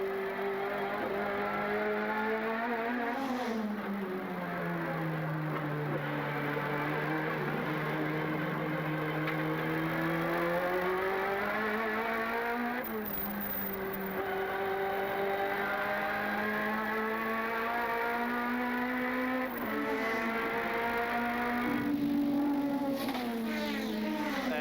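A 1988 Ford Sierra touring car engine heard from the cockpit during a championship race at Lakeside, a loud, continuous roar that rises and falls through gear changes and revs across the full lap stretch.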